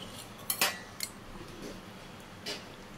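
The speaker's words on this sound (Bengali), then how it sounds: "একটু ভালো করে নাড়িয়ে নেব" Metal utensil scraping and clinking in a pan while liver curry with garam masala and ghee is stirred; a few sharp scrapes and taps, close, with no talking.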